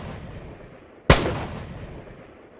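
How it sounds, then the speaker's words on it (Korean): A sharp gunshot-like crack, a single loud report over quiet room noise, with a short decaying tail; only one shot stands out rather than two or three. "뒤에서 총소리가 2방인가 3방인가 나는데"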